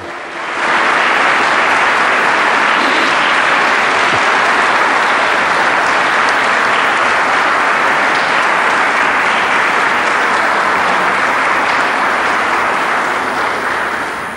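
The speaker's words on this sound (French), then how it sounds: "on les applaudit très fort" A congregation applauds loudly in a church during a parish celebration, dense sustained clapping that rises quickly and holds steady for several seconds.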